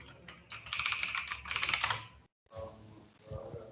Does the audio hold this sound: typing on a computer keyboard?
yes